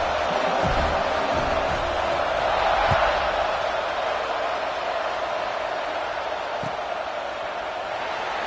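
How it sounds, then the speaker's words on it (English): A big stadium crowd at a UT vs LSU college football game keeps up a loud, continuous roar just after a touchdown, with a few sharp thumps rising out of the din. "this crowd is buzzing after that last score"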